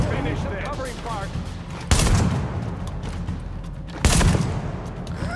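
Gunfire in The Division video game, with two loud, close bursts of shooting cutting through a constant background of game noise and chatter, while people talk over it.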